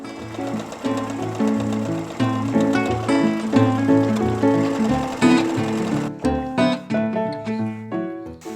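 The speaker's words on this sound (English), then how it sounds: "I'm just going to sew all the way these edges together and just continue on sewing around my armhole" A sewing machine stitches the edges of a toddler dress made from a vintage pillowcase, its motor whirring in steady runs that shift speed, then slowing into shorter bursts near the end.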